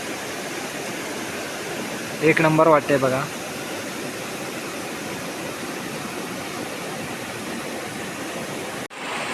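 A gently flowing river in the rainy Konkan countryside gives a steady, even rush of water that runs through the whole stretch, with someone speaking briefly over it near the start.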